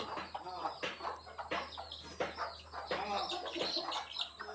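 Native village hens and chicks on a poultry farm cluck and squawk in a busy, continuous jumble over a steady low hum, with a flutter of wings now and then.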